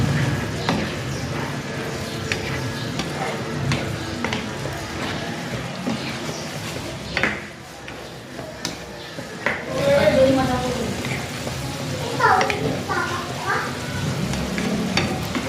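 Fried eggplant tipped into pork kinamatisan in a pan, soft steady sizzling with a few utensil clinks and stirring scrapes, a voice talking over it throughout.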